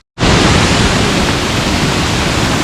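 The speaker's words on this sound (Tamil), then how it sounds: "இது ஒன் ஆஃப் தி ஃபால்ஸ்" Cascada Menor, a waterfall in Tapalpa, Mexico, roars as a dense, loud, unbroken rush of falling water that starts abruptly and holds steady to the end.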